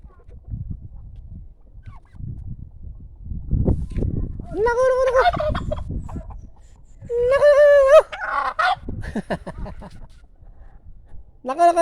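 Turkeys at a farm where chickens are also kept gobble in loud, rippling bursts, three of them spaced apart, with low shuffling and rumbling noise between the calls.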